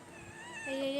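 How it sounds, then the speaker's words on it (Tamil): A kitten gives one drawn-out meow that starts faint and grows clearer and louder toward the end, heard close and alone. "பூனை பேசுமான்னு கேட்டிங்களா அந்த பேசு பாருங்க"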